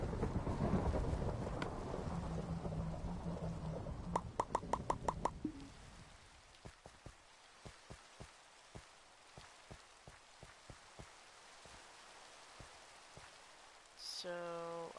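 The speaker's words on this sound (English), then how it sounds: "it rains so much on this server" Steady Minecraft rain patters over the first few seconds on a PS4 server, then thins out to scattered drops and soft ticks, with a brief flurry of game sounds near the end.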